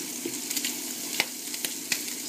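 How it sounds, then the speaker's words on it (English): Mushrooms and bacon fry in a pan with rendered bacon fat, giving a steady close sizzle broken by a few sharp clicks and scrapes as everything is tossed. "Some of the fat's rendered out of the bacon, and now it's in with our mushrooms."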